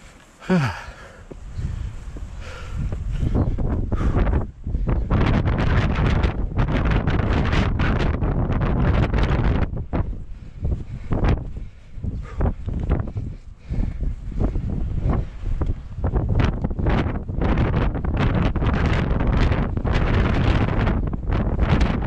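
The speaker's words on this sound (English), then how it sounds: "it's so windy!" Strong wind on a mountain trail at Stonewall Peak, Cuyamaca Rancho State Park, California, roars and buffets the microphone almost continuously, with gusty bursts and brief lulls throughout.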